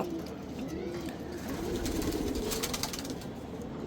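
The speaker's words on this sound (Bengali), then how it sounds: "এই হচ্ছে আমার কবুতরগুলার আজকের আপডেট" Pigeons coo softly and repeatedly amid a busy, noisy background, the low murmuring calls overlapping as they go.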